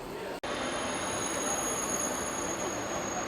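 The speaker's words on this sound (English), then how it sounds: "every time we get on this TGV train, we end up meeting nice American people" A TGV high-speed train running, a loud, dense rumble and rush of wheels and air with a thin high squeal riding on top, broken by a brief dropout near the start.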